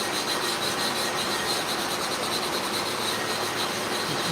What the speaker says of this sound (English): And I have to spread the abrasive on an even coat